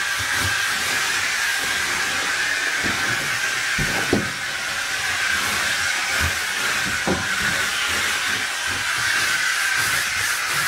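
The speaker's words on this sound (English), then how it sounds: "I'm just using up the steam I have here." A steam cleaner vents steam in a steady broad hiss that runs unbroken throughout, with a few faint knocks and clatters underneath.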